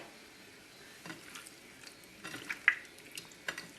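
Shrimp in a pink lobster sauce stirred in a pan, giving soft scraping and light clinks of a utensil with a faint sizzle underneath, quiet and close with a few sharper taps toward the end.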